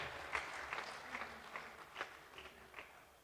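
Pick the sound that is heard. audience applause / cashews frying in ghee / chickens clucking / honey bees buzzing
audience applause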